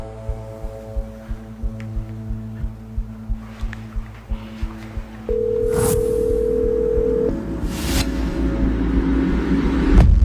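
A telephone call plays out as a steady dial tone with rapid dialing pulses, then a single long, loud ringing tone that gives way to rumbling background noise.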